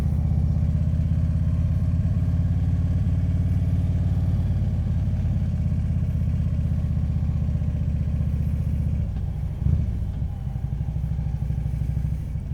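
A motorcycle engine runs steadily throughout a ride, a loud low-pitched drone close by, with a brief rise in revs near the end and no talking.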